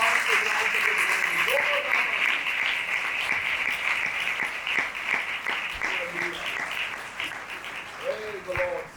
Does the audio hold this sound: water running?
no